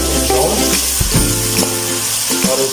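Crushed onions hit hot oil in a pan for gola kabab qorma, giving a loud, dense sizzle with stirring and scraping of the pan throughout and no talking.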